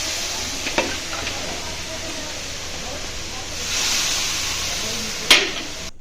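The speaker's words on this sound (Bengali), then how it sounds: "আর এদিকে মাছ ভাজা হচ্ছে" Fish frying in a pan gives a steady, close sizzling hiss that swells briefly near the end, with a sharp utensil clack and faint voices in the background.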